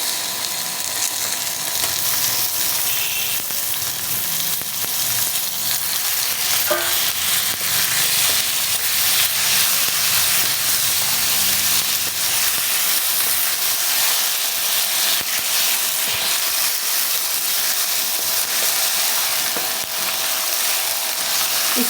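Meat sizzling in a pan with ginger garlic paste for a white qorma, a steady bright hiss and crackle of frying that holds throughout at close range, with no talking.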